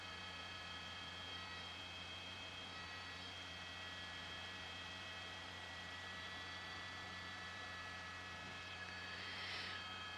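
A news helicopter circling above a police pursuit on an East Los Angeles freeway gives a faint, steady, distant rotor and engine drone with constant tonal whine throughout, no voices.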